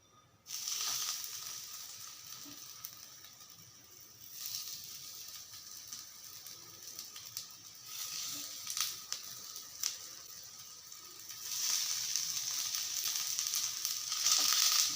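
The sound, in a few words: vegetable cutlets frying in oil in a pan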